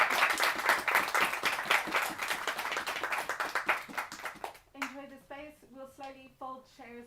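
Dense, loud applause from an audience at an author's book talk fills the room, then fades into scattered clapping as a voice starts talking over it.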